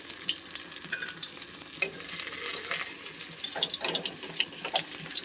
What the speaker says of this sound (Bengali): টকের মাছ যেহেতু হালকা লাল লাল করে ভেজে নিচ্ছি।